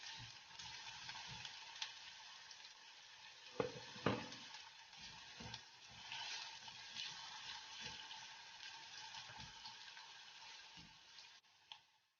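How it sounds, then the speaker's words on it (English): Onions fry in a hot pan while being stirred, a quiet steady sizzle broken by several scraping stir strokes and a couple of louder clatters, with no voices. "When hot, add the onions and then stir for approximately 2 minutes."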